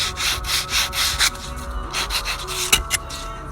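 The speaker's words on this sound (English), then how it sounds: "So I'm just lightly sanding it." Rhythmic scratchy strokes of 120-grit sandpaper rubbed lightly back and forth by hand over spackle on a wall surface, close and steady, with no talking.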